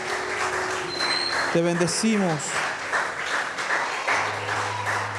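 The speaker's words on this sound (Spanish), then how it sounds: "Con un fuerte aplauso a ti," A church congregation at a Spanish-language evening worship service applauds, a steady wash of clapping running under a man's spoken prayer.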